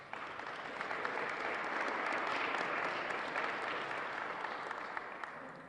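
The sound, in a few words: audience applauding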